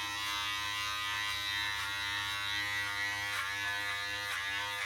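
Electric hair clippers buzz steadily and close up during a regular haircut trim, their hum wavering slightly as the blades cut through hair.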